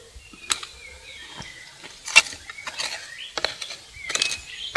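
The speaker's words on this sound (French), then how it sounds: "je passe comme ceci ma binette" A garden hoe scrapes and knocks through loose soil between young bean seedlings in a raised garden bed, giving scattered short scratchy strikes at an irregular pace, close by and fairly quiet.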